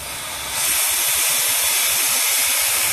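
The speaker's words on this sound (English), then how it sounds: "we're gonna blow with our nitrogen through the system" Nitrogen blown through a refrigeration condenser on an R290 unit makes a loud, steady broadband hiss that swells after a brief quieter start and then holds continuously, with faint low rumbling beneath.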